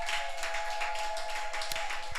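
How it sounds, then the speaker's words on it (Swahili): A congregation claps hands for Jesus during a Wednesday prayer service, a dense, steady patter of many hands sustained over a held keyboard-like tone. "Mpe Bwana Yesu makofi mengi popote ulipo."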